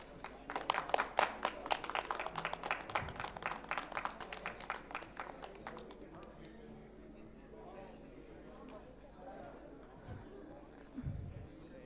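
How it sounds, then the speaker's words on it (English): An audience at an Islamic fintech forum gives a dense burst of applause that fades out over about six seconds, leaving murmuring room noise and a few thumps. "Please, a big round of applause to Miss Aliza Kaiser."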